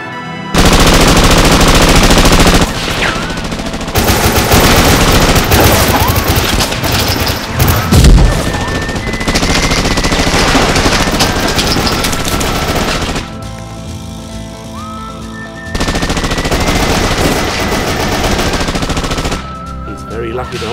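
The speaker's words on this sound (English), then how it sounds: "That's a P228 semi-automatic pistol." Pistol gunfire from a P228 semi-automatic handgun amid a loud, dense barrage of shots and booms in a poker-themed warfare game, with a voice talking over the continuous firing.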